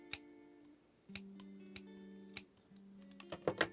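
Old crappy scissors snipping through faux fur in a series of sharp, close clicks, spaced out at first then quickening toward the end, with faint steady tones underneath.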